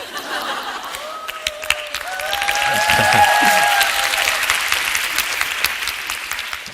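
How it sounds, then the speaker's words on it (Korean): An audience at a workplace harassment-prevention lecture breaks into applause mixed with a few chuckles, the clapping swelling in the middle and then tapering off while a voice speaks over it. "너무 당연한 얘기를 하는데 박수를 치시네요."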